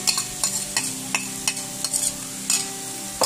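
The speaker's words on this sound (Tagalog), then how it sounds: "Durugin natin yung mga kamatis." Tomatoes being crushed with shrimp paste (bagoong) in a pot for kare-kare with pata, beef tripe and pork hock, a run of repeated clinking scrapes of a utensil against metal over a soft sizzle, close and steady with no talking.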